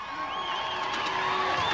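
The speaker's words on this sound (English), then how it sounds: "how about a nice round of applause for one of the hardest working pit crews?" A crowd at Skagit Speedway, a 1994 season championship night at a racing oval, cheers and whoops for a pit crew, a steady wash of voices with bright shouts across the short stretch.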